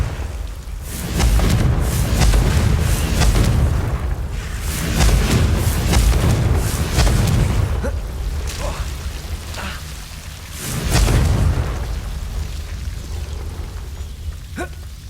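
Confringo spell blasts in the video game Hogwarts Legacy, several deep booming explosions that swell and fade in waves over a rumbling backdrop, loud and close.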